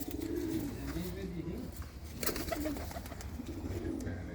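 Pigeons, Teddy-breed birds kept as a hobby, coo in low repeated phrases close by, with a voice talking over them at times.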